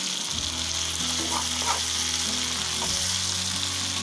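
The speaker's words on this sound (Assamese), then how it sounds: "আদা নহৰুখিনি দি কেনে অলপ টাইম ফ্ৰাই কৰি ল'ব" Ginger and garlic sizzle steadily in hot oil for a pork dish with roselle leaves, a loud continuous frying hiss with a few soft stirring knocks and a low hum underneath.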